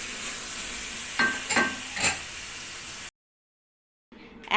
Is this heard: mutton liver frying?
yes